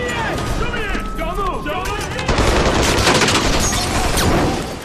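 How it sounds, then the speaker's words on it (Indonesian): Gunfire during a raid scene in a film, a burst of shots under voices and music, growing louder and denser partway through before fading at the end. "Alhasil baku tembak pun tidak dapat dihindari."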